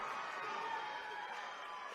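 Crowd noise rises in a gymnasium during a girls high school quarterfinal basketball game, a steady broad roar of cheering from the stands that holds at an even level throughout, with no clear individual voices.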